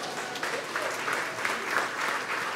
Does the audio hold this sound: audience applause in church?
yes